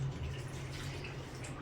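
Cold water runs softly from a tap as food is rinsed, a faint, steady trickle and splash heard close by with no talking.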